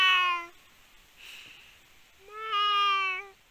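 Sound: child imitating a cat meowing

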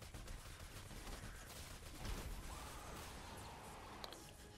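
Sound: Mercury light machine gun firing in video game Fortnite

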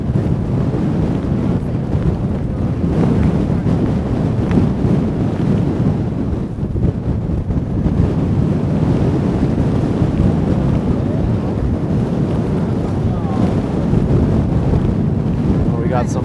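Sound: strong wind at the Gaomei Wetlands

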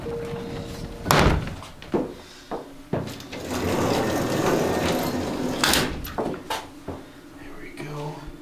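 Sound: heavy doors closing in an old hospital

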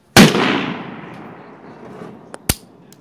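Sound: Ruger MKIII 22/45 pistol shots at a range

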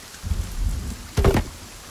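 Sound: thunderstorm and rain in the video game Sons of the Forest

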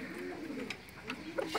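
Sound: pigeon cooing

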